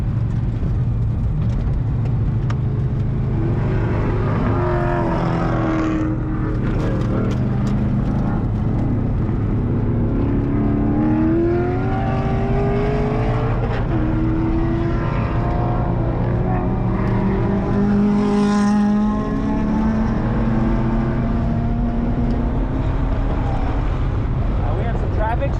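A Corvette Z06 laps a race track, its engine droning loud and close with rising and falling pitch as it accelerates and shifts, with wind rush throughout and a voice talking over it.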